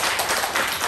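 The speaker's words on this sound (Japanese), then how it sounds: "拍手をいたしましょう" A church congregation claps together in a dense, steady burst of applause, close and continuous for under a second with no voices.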